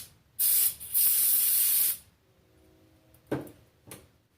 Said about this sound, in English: I'm just gonna go ahead and hit it with some brake parts cleaner to really get the surface nice and clean.